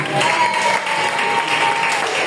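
A church congregation claps together in worship, a dense, steady wash of applause that carries on evenly throughout without pause.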